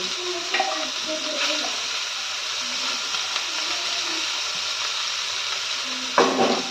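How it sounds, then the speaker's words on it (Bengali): Bitter gourd rings fry in leftover oil in a wok, giving a steady loud sizzle throughout, with occasional soft stirring scrapes and a utensil clink near the end; no one speaks. "এই যে উচ্ছেটা রিং রিং করে কেটে রেখেছি যে তেলটা বেঁচে আছে এই উচ্ছেটা ভেজে নেবো"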